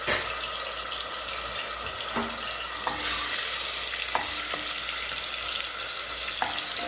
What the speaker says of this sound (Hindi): अभी तेल के अंदर सबसे पहले हम ऐड करेंगे जिंजर गार्लिक का पेस्ट।